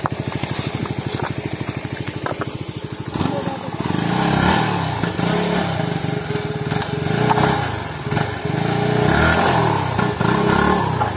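A motorcycle on a rough road sputters in a steady close idle, then revs up and keeps labouring loudly with rising and falling surges over the uneven ground.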